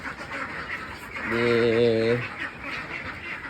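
Thirteen-day-old ducklings give a short burst of stacked, harmonic quacking calls at mid-clip, loud and close, over a steady background hiss.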